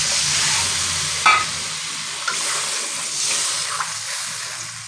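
Water poured into a pan of fried spices and oil, cooked down for a Bengali jackfruit curry, hisses loudly into a steady sizzle, with a few sharp spits and stirring clinks. No one speaks.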